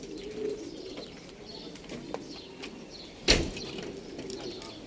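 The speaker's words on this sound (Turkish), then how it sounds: "Şu bu kuşların devamını çek abi." Pigeons coo softly in the background, with a few chirps and a sudden flutter of wings near the middle, under a steady ambient hum.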